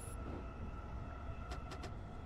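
Keihin Tohoku line commuter train in Train Sim World's Tokyo route rolling along with a steady low rumble and sustained cab hum, short high chimes near the end, no talk.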